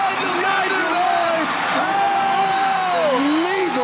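Basketball arena crowd at a 1998-99 BBL game, Birmingham Bullets against Sheffield Sharks, roaring and whooping after a long buzzer three-pointer; dense, loud and sustained cheering with yells rising throughout.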